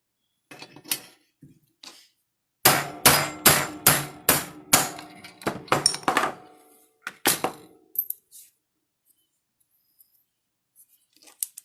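A hammer strikes a disc punch set in copper sheet, a few scattered taps first and then a quick run of about a dozen hard metallic blows, loud and close, tapering off into quiet.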